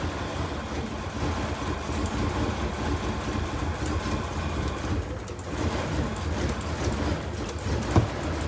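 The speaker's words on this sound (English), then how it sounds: "Testing to make sure the new alternator is charging, and it is, but the engine's running funny." Old cheap truck engine running rough after a new alternator was fitted, idling steadily up close with an uneven, lumpy rumble and no talk.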